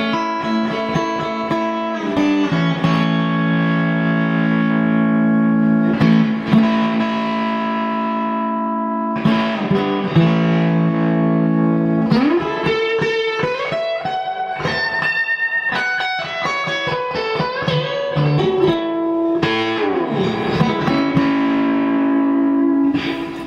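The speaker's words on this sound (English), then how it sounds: "you can just control how much distortion you get with your guitar's volume" Heavily distorted electric guitar through a miniature Red Llama fuzz pedal, playing sustained chords and sliding notes, loud and saturated with a buzzy, compressed fuzz tone throughout.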